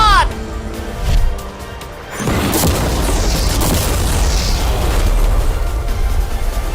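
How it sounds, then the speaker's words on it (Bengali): A deep, loud boom as a normal car packed with mannequins is blown up, followed by a long roaring rumble of debris and blast noise; people talk briefly before the blast. "বিস্ফোরণটা এত জোরে হয়েছে যে ভিতরের ম্যানিকুইন গুলো ছিটকে এদিক ওদিকে বেরিয়ে গেছে।"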